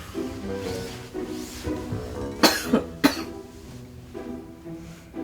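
A person coughs a few times in quick, sharp bursts, close by, with quieter breathing and throat sounds around them.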